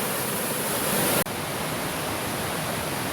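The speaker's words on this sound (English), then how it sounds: "just downstream from what I called Little Falls is what's called Big Falls on Big Cedar Creek" Big Falls on Big Cedar Creek, in the Pinnacles Nature Preserve in Russell County, Virginia, pours as a steady, dense broadband rush that fills the whole stretch with one brief dropout partway through.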